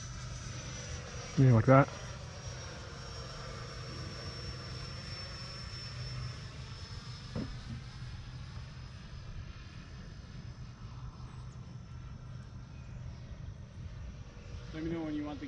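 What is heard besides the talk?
E-Flite F-16 RC jet doing a slow flyby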